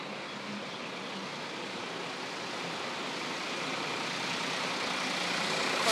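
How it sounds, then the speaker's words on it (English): A steady, broadband engine rumble from a nearby bus on an evening street in Sanur, Bali, growing slightly louder over several seconds, with no speech. "Apologies about the bus, I'm walking right by it, making a little bit of noise."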